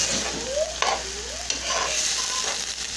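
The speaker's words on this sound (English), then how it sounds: "I'm just gonna stir everything." Stirring sauce and food in a frying pan, with scraping strokes of a utensil over a steady sizzle, close and fairly loud, several sweeps in a row.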